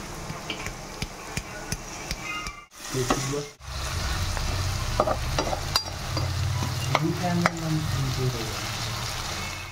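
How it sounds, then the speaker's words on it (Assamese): Food sizzling and frying in a hot pan, with occasional stirring clatters and a brief quiet break partway through. "এনেকৈ অলপ ভাজি থাকিব লাগিব"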